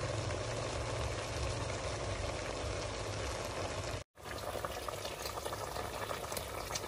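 A pot of chicken curry with pickled bamboo shoots boiling steadily, a dense continuous bubbling hiss at low level, broken by a brief silent gap before it carries on, with no one talking.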